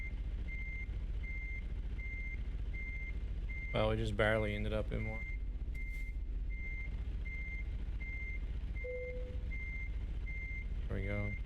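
Backup alarm on a truck being parked in a truck-driving video game, steady repeating high beeps over engine rumble, briefly covered when someone talks, with a short lower tone near the end.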